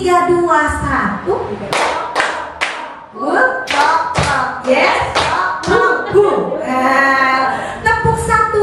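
Kindergarten children clap their hands in a counted clapping game, making short bursts of sharp claps between an adult's spoken counts and children's voices.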